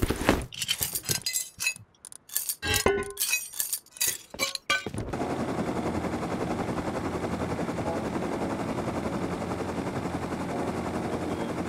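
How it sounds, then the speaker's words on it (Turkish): Rapid bursts of explosive-ammo gunfire in the survival video game Rust, sharp clinking, crackling shots in quick irregular volleys for several seconds, then giving way to a steady whirring drone. "Patlayıcı mermi."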